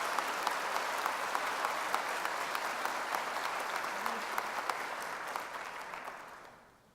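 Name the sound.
graduation audience round of applause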